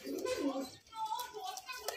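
Kalshira high-flying pigeons give soft, brief low coos, close and faint, with a voice talking over them.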